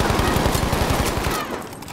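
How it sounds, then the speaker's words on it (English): Rapid bursts of video game gunfire rattle steadily for about a second and a half, then thin out and fade, with no talk over them. "I was shooting two guys in panic"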